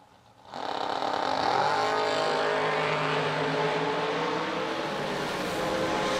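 Drag race cars, including a Fuel Factory Camaro, launch with a sudden loud roar after a brief quiet moment, then hold a sustained, steady engine drone that fades only slightly as they run down the strip.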